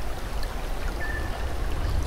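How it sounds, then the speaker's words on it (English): Steady rushing water from a river sound effect on a model railway layout, a continuous broadband flow that holds at an even level with no voices. "It really sounds like a river flowing, doesn't it?"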